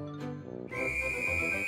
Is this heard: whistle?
yes